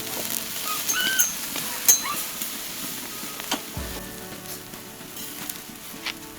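Skirt steak sizzles on a raised Santa Maria grill, a steady crackling hiss with scattered pops and small flares, moderately loud and close, with no talk.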